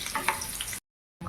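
Egg frying in a pan on a medium-low stove flame, a soft broadband sizzle that is steady, then cut to silence for a moment before resuming.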